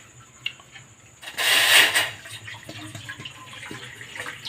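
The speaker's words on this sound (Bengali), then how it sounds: "আমি অল্প করেই জল দেবো" Water is poured into a pot to boil soaked sago: one short, splashy pour lasting about a second, fairly close, then quiet with a few faint clinks.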